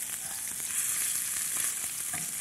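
Scallops searing in a hot skillet give a steady, loud, close sizzle and crackle of frying with no talk over it.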